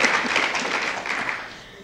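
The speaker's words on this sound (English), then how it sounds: "Yeah, we can applaud that." Audience applause at a live conversation event on national security, a dense burst of clapping from a crowd that holds steady and then slowly fades over a couple of seconds, with no talk over it.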